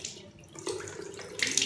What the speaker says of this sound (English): now you have to wash it off with normal water